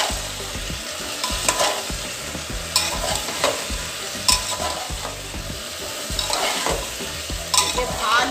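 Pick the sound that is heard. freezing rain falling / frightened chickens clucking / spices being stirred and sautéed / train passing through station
spices being stirred and sautéed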